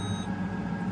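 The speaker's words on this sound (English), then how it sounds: "If you can hear the beeping behind me" Thin electronic warning beeps from a truck's A-pillar, signalling lost communication, sound briefly at the start over a low steady engine hum, fairly quiet in the enclosed cab.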